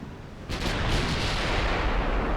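Battleship main guns fire in a naval combat video game, a dreadnought-era ship at close battle range, the salvo erupting abruptly after a brief quiet into a loud, sustained roaring blast that fills the rest of the moment.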